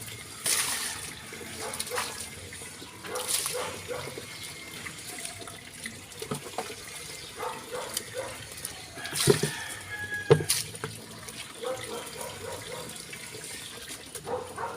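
Water running and splashing intermittently, close by, with scattered knocks and a few faint voices and bird sounds in the background.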